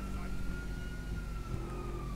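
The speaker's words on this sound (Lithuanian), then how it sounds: "O tu kur atvažiuoja policija?" A police car siren in the video game GTA V, a steady wailing tone heard over a constant low vehicle engine rumble, loud and close throughout.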